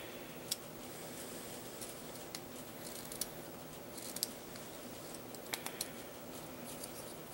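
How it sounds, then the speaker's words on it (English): A craft knife shaves excess plastic off a Gundam model kit part, making faint, sparse scraping and ticking strokes over a steady background hiss, close by and quiet, with no voices. "And I shave it down a little bit with my knife"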